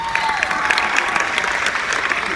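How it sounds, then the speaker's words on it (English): An audience claps together at a junior robotics presentation, a short burst of brisk, dense applause that stays close and even for a couple of seconds. "Give yourselves a round of applause."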